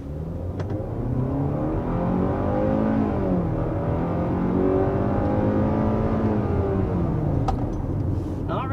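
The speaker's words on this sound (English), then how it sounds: "So I was first taking off with this all-new 2022 Hyundai Tucson." A 2022 Hyundai Tucson SUV engine hums and climbs in pitch as it accelerates, heard from inside the cabin, loud and continuous.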